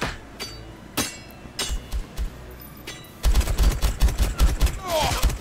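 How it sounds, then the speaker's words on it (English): Bursts of machine gun fire in the VR shooter Hard Bullet, with sharp separate shots at first and then a denser, louder volley of rapid impacts. "Oh, two shots, sets of machine gun fire right to the face."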